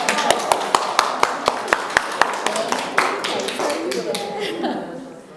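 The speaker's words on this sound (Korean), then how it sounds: "박수!" A group at a union training session for new members claps in unison, a string of sharp, evenly spaced claps that then dissolves into scattered clapping, chuckles and people talking.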